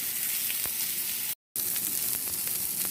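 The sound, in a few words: meat searing in a pan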